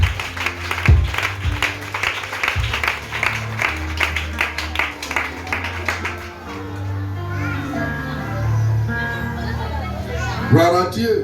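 Church congregation clapping and cheering for a woman during a service on prayer and fasting, a run of rhythmic applause for several seconds before voices and shouts take over.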